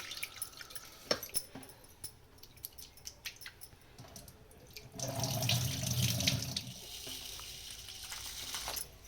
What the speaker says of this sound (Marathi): एकदा जरा धुवून घेते स्वच्छ पाण्याने